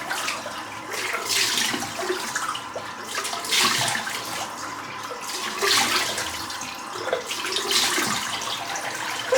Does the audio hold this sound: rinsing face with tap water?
yes